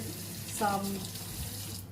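Warm water runs steadily from a kitchen tap for pizza dough, a continuous broadband splash that swells briefly near the start and tapers off at the end, with no talking over it.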